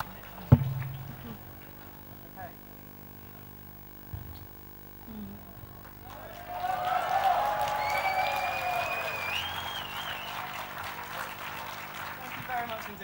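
A large literature festival audience in a session on love breaks into cheering and sustained applause, rising after a quiet stretch with a few knocks and then continuing as a broad roar of clapping and whoops.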